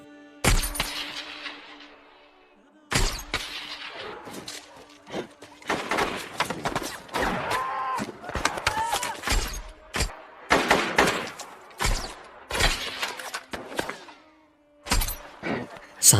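Battle gunfire in the Lone Survivor film: sharp bursts of shots and cracks in irregular clusters, some loud and close, separated by short near-silent gaps.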